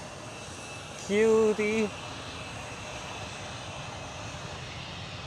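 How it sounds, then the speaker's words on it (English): KLM Boeing 737 jet taking off at Amsterdam Schiphol, a steady distant engine roar throughout, with a brief voice speaking over it. "and KLM 737 rotate already"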